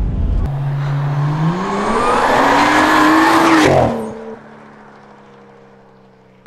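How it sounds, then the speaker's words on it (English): A BMW 335i with an N55 engine and a big boost turbo kit accelerates hard, the engine note climbing loudly through the revs for several seconds before the throttle lifts and it settles to a low idle-like drone. "So first opportunity to test this big boost turbo kit, and straight away it feels great."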